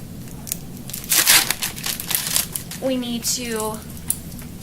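A plastic-wrapped medical administration set package crinkles and crackles loudly as it is torn open up close, and a voice speaks briefly partway through.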